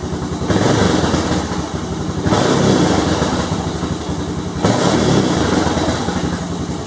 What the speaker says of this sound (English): See if it'll idle a little bit.